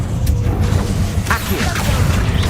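A Confringo blasting spell goes off in Hogwarts Legacy, a loud whooshing burst that rises over a constant rumbling bed of game sound.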